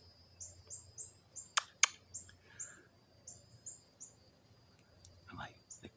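A cardinal peeps repeatedly in a tree near a grackle, its short, bright chirps coming in a steady series with a couple of sharper, louder calls mixed in, all fairly faint outdoors.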